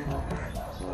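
A brief, close dog vocalization, a short yip or whimper with some background noise and a voice nearby.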